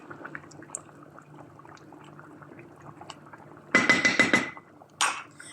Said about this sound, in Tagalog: Pakuloyin lang natin siya ng isang kulo lang